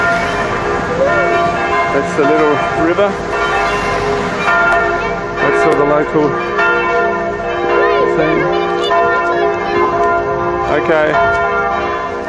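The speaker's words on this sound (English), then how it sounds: "that's the church bells ringing for Christmas Day." Church bells peal on Christmas Day across a town near a small river, a continuous loud ringing with overlapping strikes throughout, while people talk over it.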